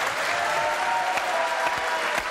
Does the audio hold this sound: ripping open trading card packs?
no